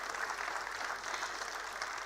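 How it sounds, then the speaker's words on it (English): A large convocation audience at NMIMS Mumbai in 2025 applauds continuously, a broad, even roar of many hands clapping at once, loud and sustained with no pauses. "Yes, clap loudly."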